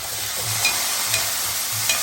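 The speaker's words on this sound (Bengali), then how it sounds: "টমেটোটা অল্প করে ভাজতে থাকবো" Tomato with green chilli frying in a pan for a mustard-poppy seed pabda fish curry, a steady hissing sizzle with a few soft stirring scrapes and clinks at regular intervals, close and without talk.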